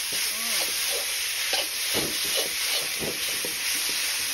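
Taro (kochu) sizzles in hot oil in a pan while being stirred, a continuous bright frying hiss broken by soft scraping strokes, close and steady.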